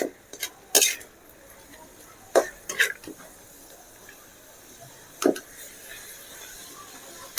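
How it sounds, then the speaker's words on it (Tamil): Intermittent metal scrapes and clinks of a spoon stirring mutton blood fry in a pan, a handful of sharp bursts spread over a quiet background with long gaps between them. "நம்ம கை விடாமல் கிண்டிக்கிட்டே இருக்கணும் இல்லைனா அடி பிடிச்சிருவோம்"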